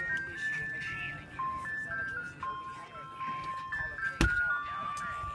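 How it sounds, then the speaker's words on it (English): An ice cream truck plays its chime melody as a series of steady electronic tones, loud and continuous over street background noise, with a sharp knock near the end. "Ice cream truck, guys."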